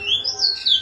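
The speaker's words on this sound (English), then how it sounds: "the bird loves to whistle when I'm speaking, right?" Bird whistling with rising and falling high-pitched notes in several bursts, fairly clear over a quiet room with a faint low hum behind.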